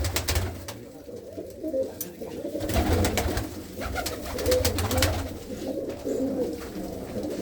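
Pecking-order chatter of home-kept pigeons, a line bred for generations, fills the air with steady overlapping coos, alongside low rumbling handling noise and muffled thumps close by.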